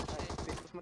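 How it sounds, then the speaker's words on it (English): A quick burst of M16 rifle fire in the video game PUBG Mobile, about six sharp rapid shots in under a second, close and clear. "Nice, nice shot, Joffrey with M16."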